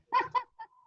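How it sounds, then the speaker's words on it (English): A pet dog indoors lets out two quick, fairly quiet barks followed by a short whine, wanting to go outside. "That was my dog wanting to go outside."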